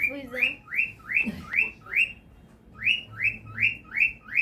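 A pet parrot whistles a repeated rising note in a series of loud, clear calls, broken by a short pause, with faint background noise in a home during a morning birthday celebration.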